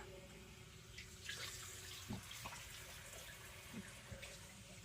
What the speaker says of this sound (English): Turn my tap on, and I like to give it a rinse, and I rinse the inside also.